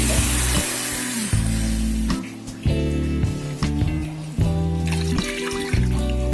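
Water poured into a measuring glass used for rice flour when making fried pathiri gives a near, running trickle and splash in short pours, with no one talking.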